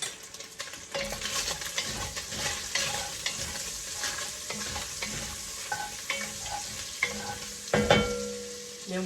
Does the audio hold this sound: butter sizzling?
yes